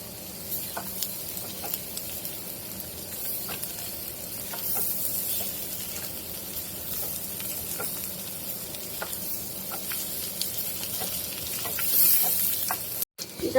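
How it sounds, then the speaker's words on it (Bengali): Cumin seeds frying in a pan for dal bhuna give a steady, close sizzle for the whole stretch, with scattered small crackles and the occasional stir. No one speaks. "আমি সুন্দর করে ভেজে নিব।"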